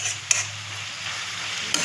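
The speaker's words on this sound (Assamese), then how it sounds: "ধুনীয়াকৈ ভাজি দিম" Onion fries in oil with whole cumin, coriander powder and chilli powder, a steady close sizzle broken by two sharp scrapes of a stirring spatula against the pan, with no talking.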